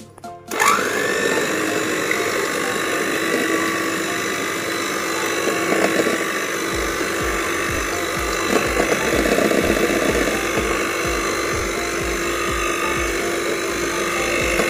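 An electric mixer beats five eggs into creamed butter and sugar for a chocolate cake batter. The motor starts abruptly and holds a loud, steady whine, with a low rhythmic churning from the batter joining after a few seconds.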